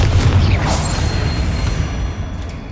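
A Confringo blasting spell detonates in Hogwarts Legacy, a loud close boom with a whooshing burst that rolls off into a fading rumble.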